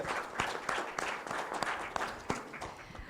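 Audience applause fills a hall at a congress on electoral justice in Mexico, a steady patter of many hands with sharper individual claps breaking through, moderately loud and continuous with no talk over it.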